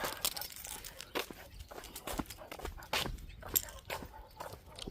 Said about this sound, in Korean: 지금 조그만 강아지들이 짖고 있다